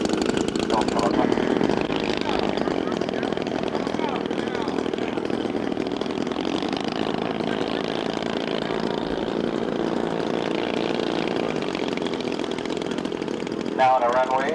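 A Kenya VT-240 V-twin four-stroke engine on a large-scale model airplane runs steadily and loud throughout, a continuous droning buzz with a brief rise near the end, amid a busy outdoor scale-flying event.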